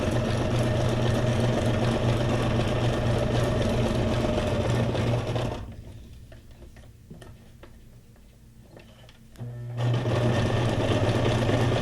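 A sewing machine stitches through a paper junk journal folder, running in a steady rapid mechanical rhythm, then pausing for a few seconds before starting again, loud and close with no talking.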